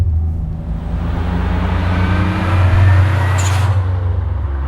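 A 25-year-old Mitsubishi GTO twin turbo, mostly stock, drones loudly under way, its exhaust note climbing in pitch and then holding steady as the car accelerates, with a sharp brief hiss midway.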